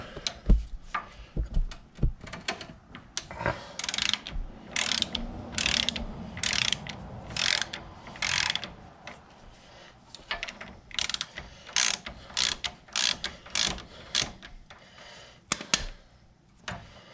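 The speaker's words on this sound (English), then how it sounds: "got a 17mm nut up here, and back that off so I can break this ball joint loose" A hand ratchet backs off a 17mm nut on a Can-Am Outlander ATV spindle ball joint, clicking in quick repeated bursts of strokes separated by short pauses, close and clear with no talking.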